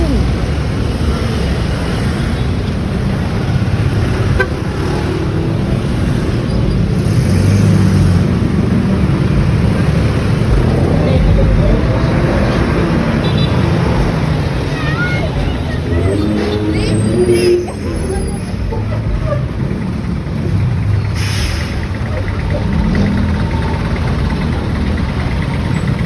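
Heavy city traffic along a road between a city hall and a bus terminal, with idling car engines and a continuous rumbling drone, crowd babble and passing vehicles, and no distinct horn blasts standing out.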